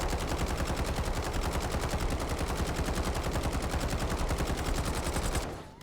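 A CR-56 AMAX assault rifle in Call of Duty: Black Ops 6 fires one long, rapid automatic burst on a firing range, dense evenly spaced shots, loud and close, stopping abruptly at the end.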